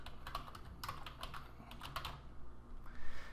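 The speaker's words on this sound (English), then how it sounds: "And I'm going to type in asset that category." Someone types on a computer keyboard with soft, quiet clicks in short irregular bursts, close to the microphone.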